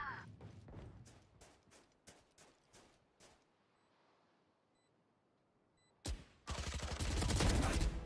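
Gunfire in the Valorant video game: a rapid burst of sharp shots in the first few seconds, a short quiet stretch with faint beeps, then one loud crack and a dense, sustained roar of automatic fire to the end.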